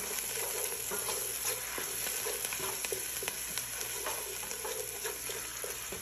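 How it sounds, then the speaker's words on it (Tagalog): Tomato paste stirred in a hot frying pan gives a steady close-up sizzle with soft scraping and stirring strokes throughout, with no talking. "At lagay ko na itong isang box ng tomato paste. Mix ko lang siya ng 1 minute."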